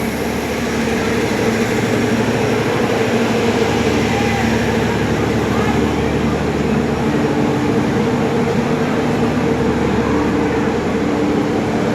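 Garib Rath Express rolling into a station platform at night, a loud, steady rumble of wheels and carriages with continuous low mechanical drone throughout, close by.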